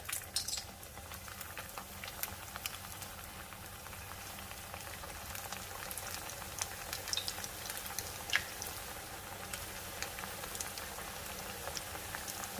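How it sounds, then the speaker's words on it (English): Taco dorado sizzling in hot fry oil at around 350 to 360 degrees Fahrenheit, a steady dense crackle with scattered sharp pops, close and continuous throughout with no talking. "So I'm just gonna give it a press and add it to my fry oil."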